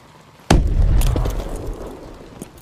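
Grenade blast in Call of Duty: Advanced Warfare, a sudden close, loud boom with a deep rumbling tail that fades over two seconds, followed by faint crackling debris and no talk.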